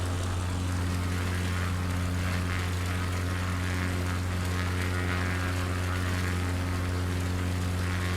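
An aircraft engine in Microsoft Flight Simulator drones with a steady, loud propeller hum, constant and unbroken.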